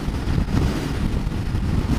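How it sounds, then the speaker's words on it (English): Strong wind buffets the microphone of a Honda CB500X motorcycle rider in a continuous rough roar, rising and falling slightly in gusts. "a big choppy wind coming across from the open side and hitting them trees"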